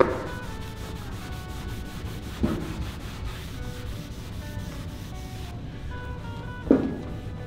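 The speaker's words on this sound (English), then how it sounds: "I'm gonna use a cleaner wax and kind of scrub away this, this staining that is right above this trim line" Cleaner wax is rubbed by hand over the stained matte paint of a Ford F100 hood, a steady rhythmic scrubbing swish close up, with a couple of brief louder bumps.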